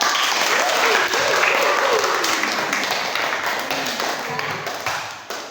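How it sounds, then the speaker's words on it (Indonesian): A classroom of students applauds a student group after their presentation, a dense, steady burst of clapping that fades slightly toward the end. "tepuk tangan kelompok"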